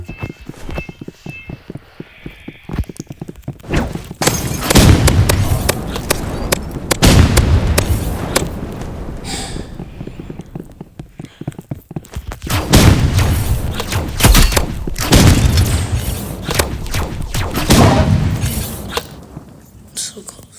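Energy pistol shots in a video game, loud rapid crackling bursts repeating in dense clusters over about twenty seconds, with a person talking over the action.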